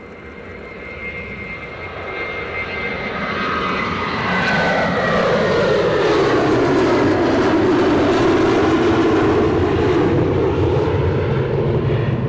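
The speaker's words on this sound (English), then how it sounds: "Followed by Delta with their 767 to New York" A Delta Boeing 767 jet departs Edinburgh Airport for New York JFK. Its loud engine roar builds over the first few seconds, then holds steady and close, with whining tones sweeping downward as it passes. No voices are heard.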